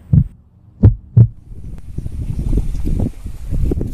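Three deep, thudding heartbeat pulses sound close and loud early on, used as an effect in a Kerala nature travel piece near a dam, then fade into a low rumbling ambient hum.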